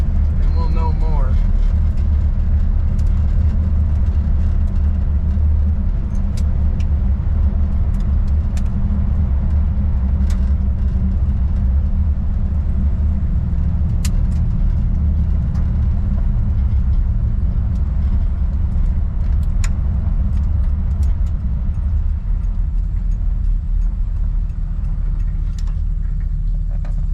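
A 1958 Buick Special accelerating to highway speed, a loud steady engine and road rumble filling the whole stretch from inside the car, with occasional small rattles and clicks.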